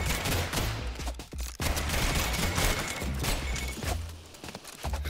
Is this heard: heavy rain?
no